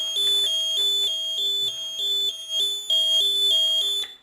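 A piezoelectric buzzer driven by an automatic flashing-LED circuit gives a loud, police-like electronic siren, alternating between two shrill pitches in a steady repeating rhythm for several cycles before cutting off.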